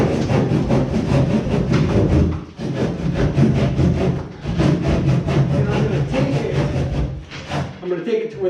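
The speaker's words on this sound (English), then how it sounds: "I'm going to cut this nice and even with this floor truss." Drywall in a ceiling is cut straight along a 2x4 floor truss, a loud, steady rasping of back-and-forth cutting strokes that continues with only brief dips.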